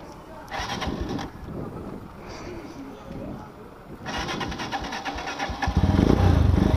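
A motorcycle engine is started outdoors in Yemen, the starter cranking and the engine catching and revving up loudly at the end, with people talking nearby.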